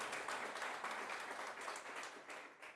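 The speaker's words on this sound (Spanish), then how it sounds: "¿Cuánto le damos un aplauso al Señor?" Sustained applause from a large church congregation, dense steady clapping that fills the space before gradually tapering slightly at the end.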